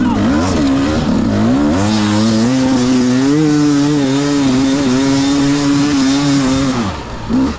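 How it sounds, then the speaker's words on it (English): Dirt bike with a worn exhaust pipe needing repacking, its engine loud and close, rising and falling in revs with a raspy, buzzing tone before dropping off at the end. "I have got to repack that exhaust pipe. It's not sounding that great."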